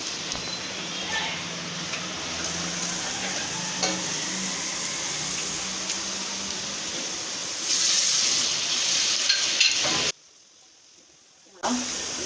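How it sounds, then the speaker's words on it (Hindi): Garlic and ginger paste sizzles steadily in a pan of browned onions for a Pakistani dhaba-style mash daal, with occasional stirring scrapes and a brief quiet break near the end. "अब हम इसमें लहसुन अदरक का पेस्ट डालेंगे।"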